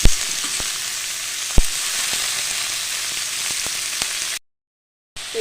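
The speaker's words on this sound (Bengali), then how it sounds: "এবার আলু, মটরশুঁটি আর কপি এগুলোকেও আমি দিয়ে দেবো এর মধ্যে। একসঙ্গে সব ভেজে নেব।" Potatoes, peas and cauliflower fry in a pan with a loud, continuous close sizzle and a few stirring knocks, broken by a brief silence near the end.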